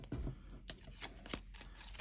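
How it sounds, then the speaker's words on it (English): A large encounter deck of cards for a Marvel Champions tabletop game is shuffled close by, giving a few quick riffling bursts and soft slaps over roughly two seconds. "just a quick shuffle of the encounter deck"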